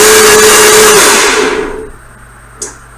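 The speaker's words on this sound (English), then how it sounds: "I'm going to turn the blender on for the last time and blend it all together." A blender whirs loudly while mixing a green smoothie of vegetables and fruit, then winds down and stops after under two seconds, followed by a short quiet and a single small knock.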